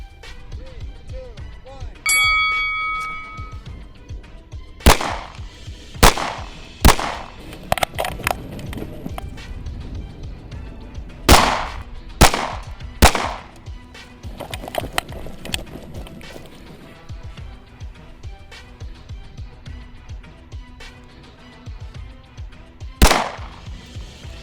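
Gunfire on a competition shooting course stage, a series of loud close shots in quick irregular bursts with short gaps between them, over a background of ambient noise and low chatter.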